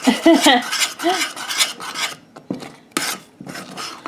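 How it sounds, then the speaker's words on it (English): A spoon scrapes around the bottom and sides of a pot of cooking rice pudding in repeated rasping strokes, close and fairly loud, with no talking. "as you can hear, I'm scraping the bottom and sides of this as it cooks"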